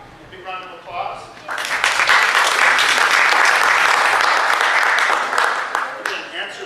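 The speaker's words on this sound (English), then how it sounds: "Big round of applause" An audience at a dinosaur talk breaks into loud, dense applause that builds after a brief voice, holds strongly for a few seconds, then fades out as talking resumes.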